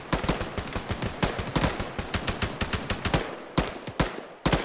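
Rapid gunfire from a shooter in the combat video game ArmA 3, a dense series of sharp, loud reports in quick bursts, some close and punchy, continuing without pause.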